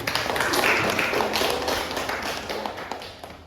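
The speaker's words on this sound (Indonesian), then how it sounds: "Oke, berikan tepuk tangan." A class in a teaching-practice lesson claps together, producing a dense patter of hand claps that starts strong and gradually thins and fades over a few seconds.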